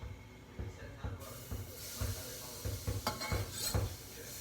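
A spice mixture dry roasts on a hot, smoking pan and is stirred and scraped with a knife. A steady sizzling hiss runs under repeated close scraping knocks of metal against the pan.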